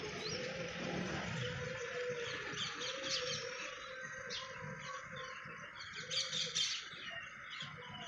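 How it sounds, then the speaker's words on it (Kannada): Faint morning birdsong from peacocks, parrots and sparrows: scattered chirps and calls drift in from a distance over quiet ambient hiss, with no talking. "ಅದರ ಶಬ್ದ ಕೇಳೋಕ್ಕೆ ಒಂಥರ ಚೆಂದ ಗಿಳಿದು ನವಿಲ್ ಸೌಂಡು ಗಿಳಿ ಸೌಂಡು ಗುಬ್ಬಚ್ಚಿಗಳ ಸೌಂಡು"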